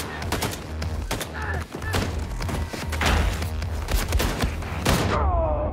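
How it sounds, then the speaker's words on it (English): Repeated shotgun blasts and heavy thuds in the Wolfenstein II video game, loud booming shots fired in quick succession amid chaotic combat noise, with brief talk over it. "Face full of shotgun instead."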